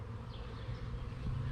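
Bees buzz in a steady, dense drone from a 3-pound package box holding thousands of busy, active bees, close and continuous with no voices.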